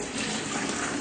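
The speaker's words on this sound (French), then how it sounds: "Donc, je verse de l'eau et je commence toujours par l'eau." Water pours steadily into a pot as the first step of making soap, a continuous close splashing gush with no speech.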